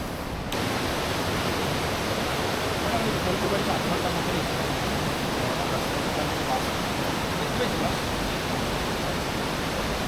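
Water falls steadily from above beside a bamboo trekking trail in rainy Meghalaya, a constant close rushing hiss that barely changes from start to finish.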